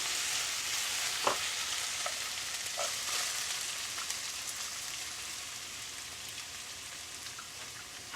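Ginger and onion frying in a home kitchen pan, a steady soft sizzle with faint crackles and occasional light taps, continuous and moderately quiet throughout.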